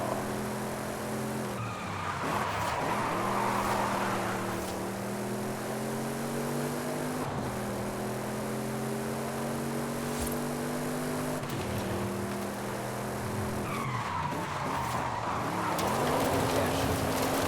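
Cars in a racing video game, loud continuous engine roar with rising and falling gear pitch and repeated tire screeching as the car skids, dense and close without a break.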